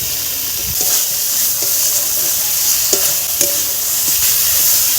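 Tomatoes hit hot spiced oil in a pan and fry with a loud, steady sizzle and hiss, broken by several stirring scrapes and taps of a spoon, close up with no talking.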